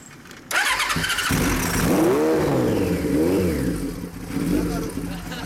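A 1994 Honda CB400 Super Four motorcycle engine catches abruptly and revs, climbing and dropping in pitch a few times before settling, loud and close, with voices faintly underneath.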